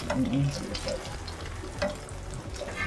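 Egg cooking in a pan sizzles steadily at close range, with occasional scraping from stirring and light clinks running under the crackle.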